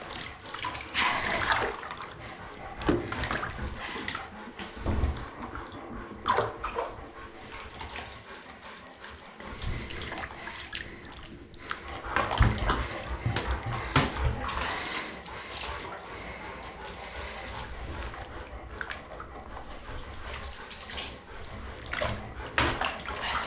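A shower nozzle sprays water during a bath and deshedding of a Siberian Husky, giving an irregular close splashing and hissing with bursts that rise and fall.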